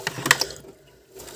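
A plastic part is pried out of a washing machine, giving a quick burst of close ratcheting clicks and snaps followed by a brief quiet pause.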